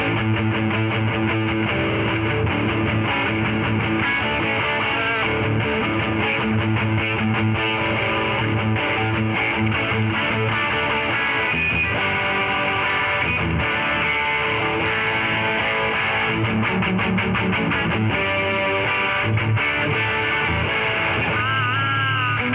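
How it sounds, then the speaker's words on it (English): Ugolyok electric guitar in Urban Drip finish, single-coil and humbucker versions, played through distortion: a loud, continuous run of overdriven chords and riffs with no talking. "So we add a little distortion."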